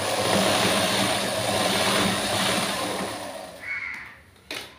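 A sewing machine stitches a joining seam on a piece of fabric, its motor giving a close, continuous whirring drone that slows near the end, stops, and then gives one brief final burst.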